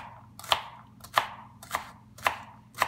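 A knife slices through sweet potato on a cutting board in five sharp, evenly spaced chops, close and fairly quiet.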